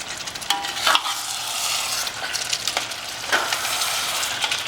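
Boiled chicken is stirred into tomato masala in a pan over high gas, with a close, steady sizzle broken by repeated scraping strokes of a spoon against the pan.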